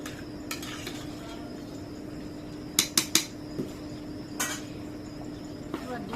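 A hilsa fish curry is stirred in a pot, with a few quick metallic scrapes and clinks of a spoon against the vessel over a quiet background hum and a faint low sizzle.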